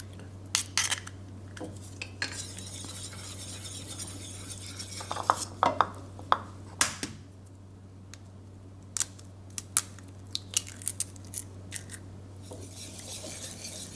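Eggs cracked one at a time into a bowl for a savory cake batter with prunes and bacon bits, giving sharp clicks and taps against the bowl at intervals, with light clinks and a steady low hum in the background and no talking.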